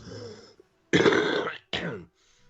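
Two harsh coughs from a person recovering from illness follow a stretch of quiet breathy sound: a longer, louder burst and then a shorter one, close and clear, with no talking.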